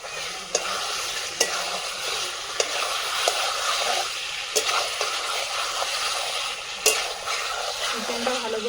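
Chicken sautéing in a pan for a first attempt at biryani, with a steady close sizzle and frying hiss broken by sharp, regular clinks and scrapes of a stirring spoon against the pot.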